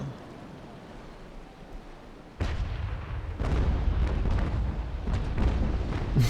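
Ship cannons in the naval battle game Naval Action fire in heavy booming volleys, a sudden blast followed by a louder sustained rumble of repeated shots, with no talking.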